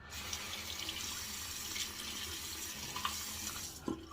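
Tap water runs steadily into a sink while soap is rinsed off a 1914 Gillette Ever-Ready safety razor, a continuous close splashing hiss with a few sharper drips and clinks near the end.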